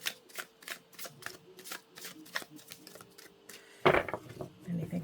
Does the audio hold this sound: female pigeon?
no